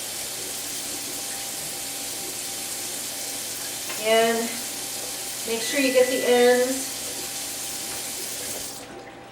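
Tap water runs steadily into a sink while a pie dish is rinsed under it, a constant hiss heard fairly close, with a person speaking briefly over it midway.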